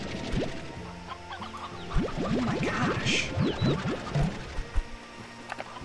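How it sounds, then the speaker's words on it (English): Cartoonish clucking from a flock of chickens in the video game Slime Rancher 2, a quick run of sharp rising chirps in the middle over a busy background hum, with a brief exclaimed voice nearby. "Chicken overload."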